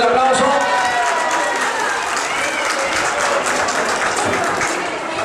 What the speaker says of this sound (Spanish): A ver, mi niño, ponte el aplauso para Jefferson.